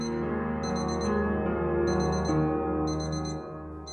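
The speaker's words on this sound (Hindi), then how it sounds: "अलार्म बंद कर दो" An alarm clock rings at dawn prayer time in a home, sounding repeated bursts of bright electronic beeps in regular groups over a steady background hum, close and fairly loud.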